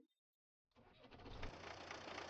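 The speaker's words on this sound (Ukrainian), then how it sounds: "Так, заводжу трактор." After a brief silence, a tractor engine in Farming Simulator 19 cranks and catches, settling into a steady low rumbling idle that gradually builds.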